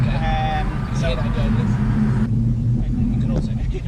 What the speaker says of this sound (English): You can also hear the road.